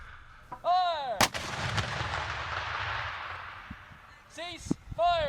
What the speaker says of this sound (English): Once the cannon has fired